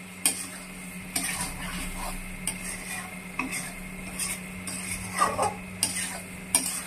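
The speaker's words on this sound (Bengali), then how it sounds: "এভাবে অনবরত নাড়াচাড়া করতে হবে, না হলে কাজু বাদাম বাটা যেহেতু দেয়া আছে তাই জন্য কড়াইয়ের নিচে লেগে যেতে পারে" A spoon working through dahi potol curry thickened with cashew paste in a kadai, scraping and clinking against the metal in irregular strokes over a low steady hum, with sharp clacks repeating every second or so.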